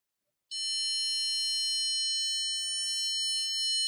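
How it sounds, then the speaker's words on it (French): A piezo buzzer on an Arduino-built electronic hourglass with six LEDs switches on abruptly and holds one steady, shrill electronic tone. It is loud and continuous for several seconds, with no voices. "on a bien entendu le buzzer"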